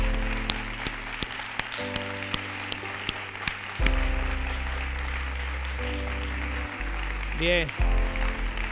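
Loud applause from a school audience honoring student mediators from several Madrid high schools, a dense wash of clapping that swells midway, with background music tones and a brief voice.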